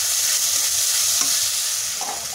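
Garlic paste and onions frying in a pan as they are stirred, a loud continuous sizzle close up with occasional scraping of the spatula, no voices.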